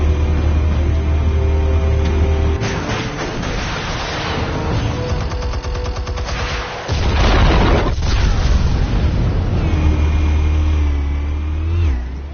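Explosives detonating in a video game, heavy booming blasts with sustained rumbling and a loud renewed burst partway through, over constant low engine-like drone, loud and close, no talk.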